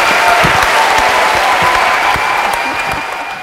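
A theater audience gives a sustained ovation at the Opéra Comique tricentenary closing gala, dense clapping from a large crowd filling the hall and easing slightly toward the end.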